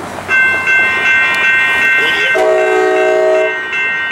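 Train 6805 leaving Old Town station in San Diego County, its horn blaring in long, loud chords over a rumbling, clattering train, with the pitch shifting midway.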